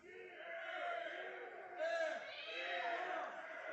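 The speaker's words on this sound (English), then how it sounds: "now the crowd starts their beer chant up again" Minor-league baseball crowd at an Evansville Otters game against the Mississippi Mud Monsters chanting together in a loud, rhythmic swell, voices rising in unison and carrying over steady crowd noise.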